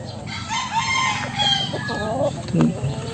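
Pet chickens near a person, with a rooster crowing in a drawn-out call amid clucking fowl, fairly close and moderately loud, while someone speaks.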